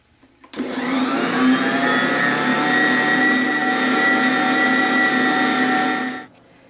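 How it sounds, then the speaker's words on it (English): A powerful stand mixer runs steadily as it kneads homemade round bread dough, a loud continuous motor whir with a strong hum that starts abruptly, holds for about six seconds, then cuts off. "we're mixing it with a powerful mixer, we're only going to do this for about 20 to 30 seconds"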